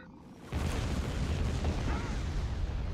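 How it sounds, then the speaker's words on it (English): An orbital bombardment in Star Wars Empire at War: Forces of Corruption opens with a sudden booming impact after a brief lull, then a sustained rumbling barrage of explosions rolling on to the end. "Bombardment incoming."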